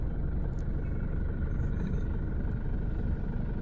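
A car driving through the streets of Mecca, heard from inside the cabin as a steady, low engine and road rumble, constant and even with no talking.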